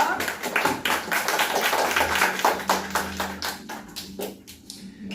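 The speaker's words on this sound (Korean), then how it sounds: "우리 목사님 나오실 때 우리 큰 박수 맞이해 주세요." Church audience clapping to welcome a pastor at a youth service, a dense run of claps with some voices mixed in, fading toward the end.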